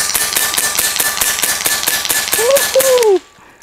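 Rapid, evenly spaced sharp shots from a semi-automatic airsoft gun, about four per second, loud and close, stopping abruptly; a voice is heard briefly near the end.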